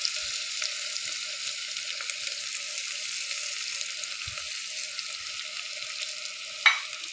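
Onions and spices for aloo keema sizzle gently in a pan with a steady, even frying hiss, broken near the end by one brief utensil clink.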